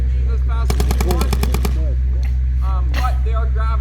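Deltaforce Blaze semi-automatic, gravity-fed paintball marker fired rapidly, about a dozen sharp evenly spaced pops in a quick burst over a steady background hum, with brief voices around it.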